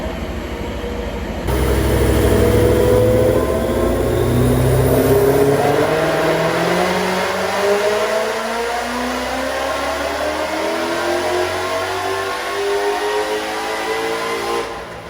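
Car engine revving up during tuning after a transmission check, a loud close roar that climbs steadily in pitch and holds high, starting abruptly after a short quiet moment, no voices.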